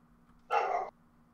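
One close dog bark, a single short sharp burst that stands out against a quiet room with a low steady hum.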